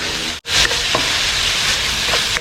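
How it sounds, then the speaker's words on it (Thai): Holy basil leaves and sliced chili stir-fried in a hot wok: a loud, continuous close-up sizzle with a brief break near the start and light scraping under it. "ผัดใบกะเพราให้สุกเลยในรอบนี้นะครับ"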